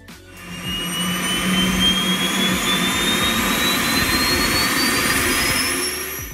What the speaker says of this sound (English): typically the high-pitched noise you can hear while the aircraft is parked